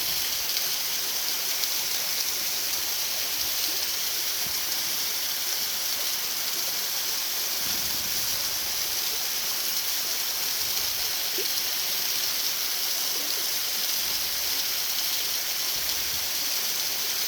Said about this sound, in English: But that's just a one big waterfall